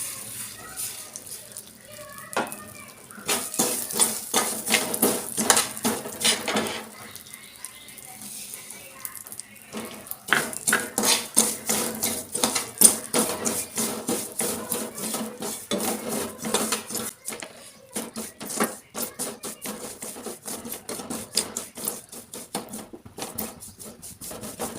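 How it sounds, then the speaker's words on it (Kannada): Flax seeds roast in leftover ghee in a pan, a spoon scraping and clinking against the metal in constant busy rhythm, close and fairly loud, with someone speaking intermittently over the stirring. "ಈಗ ಅದೇ ತುಪ್ಪ ಇನ್ನು ಮಿಕ್ಕಿದೆ, ಅದರಲ್ಲೇ ಆಳ್ವಿನ ಹುರಿತೀನಿ ನಾನೀಗ."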